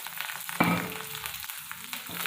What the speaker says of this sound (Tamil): கடுகு நல்லா பொரிஞ்சிட்டு அது கூட நான் வெங்காயமும் கருவேப்பிலையும் சேர்த்துருக்கேன்